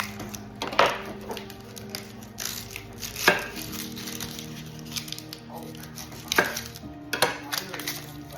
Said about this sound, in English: What I like to do first is I like to chop my onions up.